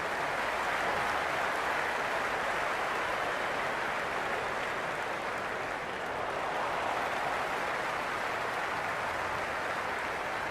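Steady, dense crowd roar fills a cricket stadium in the Cricket 26 video game during a Zimbabwe versus Pakistan T20 match, a loud continuous wash of spectator noise without pauses or commentary.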